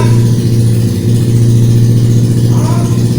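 A noisy motorbike engine runs loud and close, a steady low droning hum with a throbbing undertone that holds throughout.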